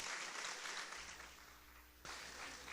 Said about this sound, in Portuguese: Pode aplaudir o Senhor, meu irmão.